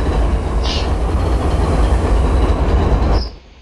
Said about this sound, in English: My new Gevo engine sound, this is gonna be available to everyone very soon.